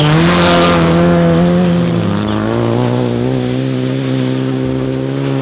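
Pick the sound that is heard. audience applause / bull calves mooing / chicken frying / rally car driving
rally car driving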